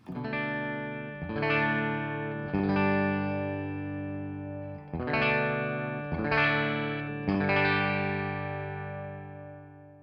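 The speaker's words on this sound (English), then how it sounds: "here's again just the clean tone of the guitar." Clean electric guitar strums ringing out in sustained chords, several strokes with a bright, undistorted tone and long decay, played alone without any voices.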